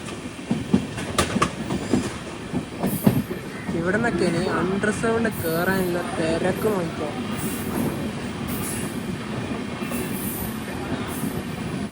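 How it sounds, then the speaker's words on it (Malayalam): A train pulls into Thalassery railway station, wheels clattering and squealing loudly along the platform while someone talks over the rumbling arrival. "തലശ്ശേരി റെയിൽവേ സ്റ്റേഷനിലേക്ക് ഇതാ"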